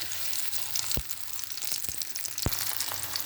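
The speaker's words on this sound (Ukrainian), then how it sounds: "2 хвилинки пройшло, перевертаємо на інший бік." Steady hiss and crackle of breaded chicken schnitzel frying in hot oil in a pan, with a few soft thumps and clinks, close by and continuous.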